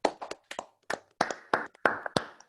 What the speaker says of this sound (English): Please unmute yourself to applaud Manuel